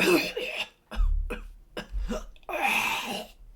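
A few harsh, close coughs in quick bursts separated by short pauses, with a voice briefly mixed in among them.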